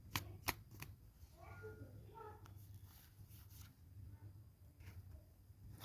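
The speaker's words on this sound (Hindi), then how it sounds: "आज जिनका जन्मदिन है उनके लिए इस डेक से हम 6 कार्ड निकालते हैं।" A deck of tarot cards is shuffled and cards are drawn, giving crisp flicks and snaps near and fairly quiet, with soft voices in the background.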